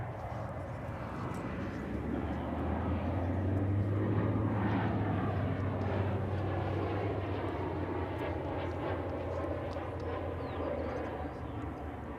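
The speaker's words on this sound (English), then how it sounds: "It's an Airbus A320 Neo. On that B Park, white left, clear for takeoff," An Airbus A320neo takes off at Dallas/Fort Worth Airport, its engine roar swelling to a broad, steady rumble that holds at moderate distance throughout.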